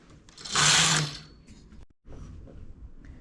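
A knitting machine carriage making a rolled cast-on, one loud whirring pass lasting about half a second, then a pause and a quieter mechanical rattle.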